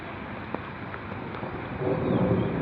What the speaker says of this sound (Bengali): কলকাতার এলাকা, দেখে নাও, বৃষ্টি হচ্ছে